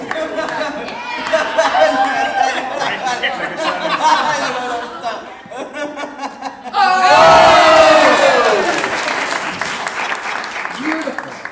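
Circus audience cheering and applauding a chase into a backflip, first scattered clapping and chatter under talk, then a loud surge of close applause and whoops that swells and tails off.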